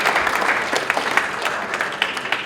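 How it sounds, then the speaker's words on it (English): Audience applause and thanks for a rabbi at a Yom Ha'atzmaut event, a moderate, even patter of many hands with a few sharper claps standing out. "a special round of applause and a thank you to Rabbi Farber for his."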